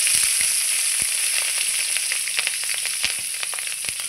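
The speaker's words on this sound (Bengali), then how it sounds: "ফোড়নে দিচ্ছি কালো জিরে আর চেরা কাঁচা লঙ্কা" Black cumin and slit green chillies sizzle in hot oil, a bright continuous frying hiss broken by sharp crackles and spits, close and loud with no talking.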